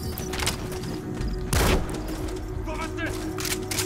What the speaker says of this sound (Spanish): ¿Qué fue eso? Pues un disparo, amigo.